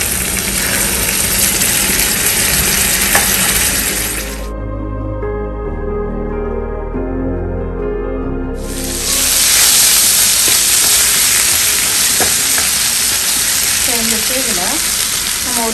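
Ginger garlic paste frying loudly in an oily pan for mutton sukka, a steady broadband sizzle that drops briefly to a low rumble midway, then surges back strong and continuous.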